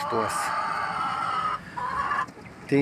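Chickens cluck close by in a rural yard, and a rooster's crow rings out over a steady hum of background noise.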